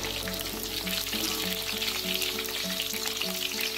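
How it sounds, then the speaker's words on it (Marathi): Cauliflower florets frying lightly in hot oil for a vegetable matka biryani, a steady close sizzle and bubbling that runs unbroken with no talk. "आपण फ्लॉवर तळून घेऊया।"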